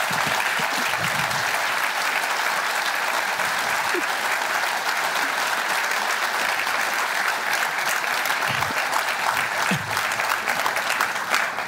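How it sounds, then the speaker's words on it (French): Applause from the audience at a NewB extraordinary general assembly, sustained dense clapping from a large crowd that carries on evenly for several seconds. "Applaudir."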